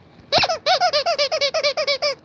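A dog chomps on a squeaky toy, producing a rapid series of about fourteen loud, close, high-pitched squeaks in quick rhythmic succession with no talking.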